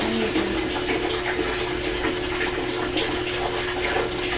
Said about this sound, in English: Just filling up with water right now.